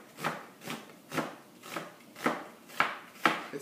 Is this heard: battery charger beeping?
no